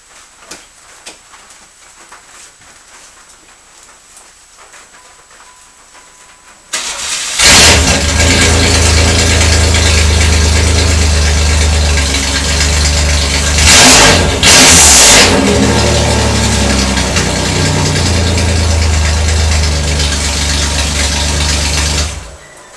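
Quiet low rumble for several seconds, then the 3.4-litre V6 engine of a 1995 Pontiac Firebird, running rough, fires up loud and runs steadily, with a brief revving surge midway, no talking.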